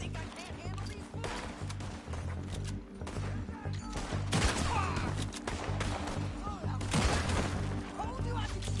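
Gunfire in Red Dead Redemption 2 crackles through a chaotic in-game shootout, with repeated shots and bursts over a dense bed of battle noise and music, and voices talking in between.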